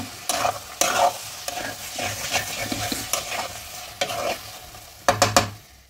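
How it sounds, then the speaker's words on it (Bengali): Bottle gourd and shrimp curry is stirred in a pan: a spoon scrapes and clatters against the metal over a low simmering sizzle, with a burst of sharp knocks near the end. "এই সময় আমি এটাকে একবার নেড়ে দেব।"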